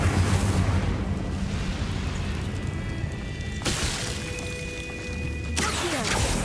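In the video game Hogwarts Legacy, an Incendio fire spell is cast with a loud, rumbling burst over dense, roaring game noise, followed by a sharp bright whoosh and then another surge.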